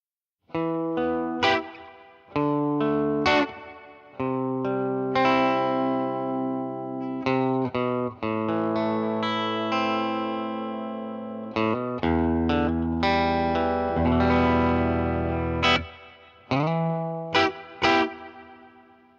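Electric guitar played through a tweed amp with a Purdy reverb pedal engaged, ringing chords and single notes with a spacious reverb tail, loud and close, played alone with no talk.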